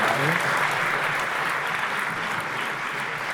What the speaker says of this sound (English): A lot of applause for Sergio Furio.